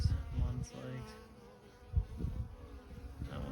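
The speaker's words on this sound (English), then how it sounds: "Keep looking at the bees flying around me, seeing if they land on me." Honey bees flying around a small nuc hive outdoors, a close, steady buzzing drone that swells and fades as individual insects pass near.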